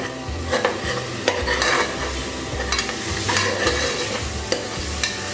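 Onion, ginger and garlic sautéing in a pan for a country-chicken rasam, a steady loud sizzle with constant stirring and regular spoon scrapes against the pan, with no talking.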